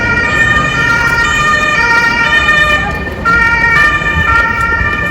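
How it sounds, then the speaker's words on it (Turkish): A wailing ambulance siren cycles loudly and continuously over steady road traffic on a Vienna street, staying close throughout. "Ama ambulans geliyor."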